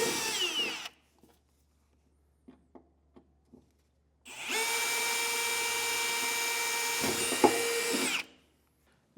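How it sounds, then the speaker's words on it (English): A power drill bores into the steel frame rail of a 2024 Ford F-250 Super Duty pickup, whining steadily for about four seconds after a few light taps and clicks, then stopping abruptly. "We can drill right down."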